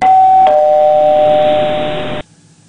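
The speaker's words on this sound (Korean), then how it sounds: "그리고 그때 주인종이 울렸습니다." Doorbell chime rings once at the start, then a second ring holds a steady electronic tone for about two seconds before cutting off, loud and close, with no talk over it.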